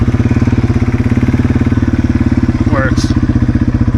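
A small RC hybrid Yamaha TW200 motorcycle engine idles steadily with a fast, even putter close by, running under a voice throughout, with a brief rising whine near the end.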